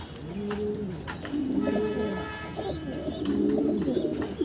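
A caged male Spanish grizzle pigeon coos in repeated low rolling phrases, close and steady, with faint chirps from other birds in the background.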